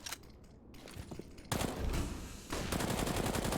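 Famas rifle gunfire in a Counter-Strike match sprays in dense bursts that grow louder and nearer partway through, with rapid overlapping shots filling the last two seconds.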